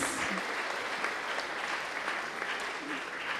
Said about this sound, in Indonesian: Si angkat tanta tepuk tangan paling meriah buat paduan suara Sora Pardis.